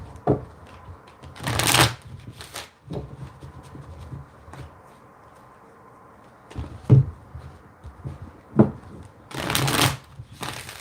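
Tarot cards being shuffled in several brisk bursts, with quieter pauses and small taps between them, close up.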